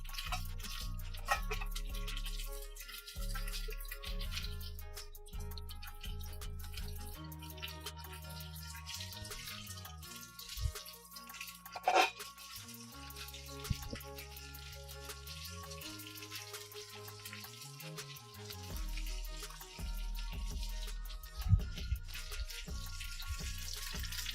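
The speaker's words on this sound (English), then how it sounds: "Drain liquid from our taters." Cooking liquid pours and drips out of a pot of potatoes being drained into a sink, a steady watery splashing with some low clatter of the pot running throughout.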